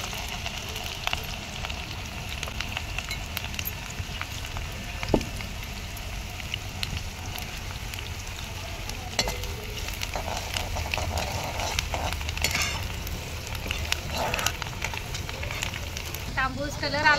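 Onion frying in a pan over a traditional wood-fired stove, a steady close sizzle and crackle running throughout with faint scattered pops and a few brief clinks.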